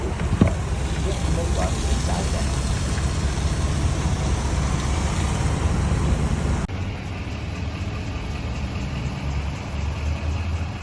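A vehicle driving to a gas station, a steady engine drone and road rumble continuing without a break, with a slight drop in level partway through.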